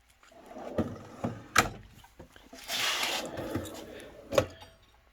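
A sliding drawer on a 10-drawer tool cart runs out along its slide, giving a few clunks and knocks and then a scraping rattle of the runner, close and moderately loud, with no talk.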